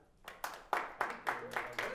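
A few scattered claps from a small stand-up comedy audience in Malmö, thin and uneven, rising and fading across a couple of seconds.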